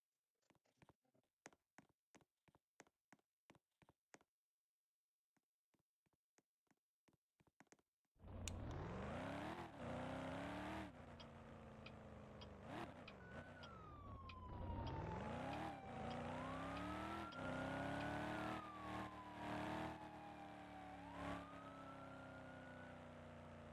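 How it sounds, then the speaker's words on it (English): Clicks and taps come first, then a car in a roleplay video game starts and drives off loudly, its engine revving and rising in pitch through several gear changes with a siren wailing over it. "Alright, better restart my car now."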